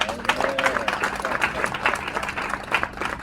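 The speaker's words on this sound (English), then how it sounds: "Give her a round of applause." An audience at a religious gathering breaks into sustained applause for a pastor's wife, a dense, steady wash of many hands clapping together close by for the whole stretch.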